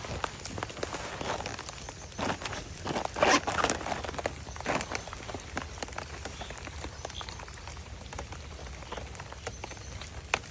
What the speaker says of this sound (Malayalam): മഴയായി പോയി അത് കാരണം ഇത്തിരി പ്രശ്നമാണ് വീഡിയോ എടുക്കാൻ